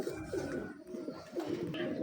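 Cooing of a Sialkoti Galatu pigeon, a low repeated throaty murmur that carries steadily and close throughout, with soft room noise around it.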